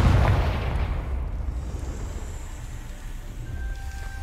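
A Confringo fire spell goes off in Hogwarts Legacy, a deep booming blast at the start that trails off into a long rumbling, crackling decay.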